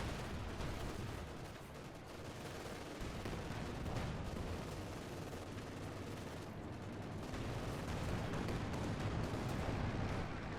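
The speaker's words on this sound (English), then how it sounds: "Very nice, awesome airstrikes." Airstrikes and artillery in Company of Heroes 2 rumble as a dense, continuous barrage of booms and gunfire, loud and unbroken with no voices over it.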